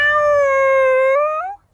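A human voice imitates a cat's meow: one long, drawn-out, fairly loud call that rises slightly before cutting off.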